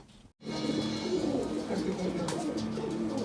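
A pair of pigeons coos softly and repeatedly at close range after a brief gap of silence, a low throaty murmur that runs steadily alongside faint background voices.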